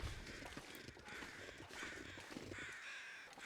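Crows caw repeatedly in the wintry wilderness of the survival video game The Long Dark, the harsh calls fairly distant over a steady windy ambience, with no talking.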